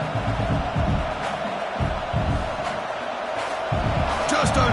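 A home crowd at a Michigan versus Texas A&M college football game keeps up a loud, steady roar that swells and ebbs slightly over several seconds, with no individual voices standing out.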